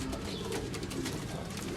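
Rampuri teddy pigeons with feathered feet coo softly in a short, faint stretch, low murmuring calls over steady background noise.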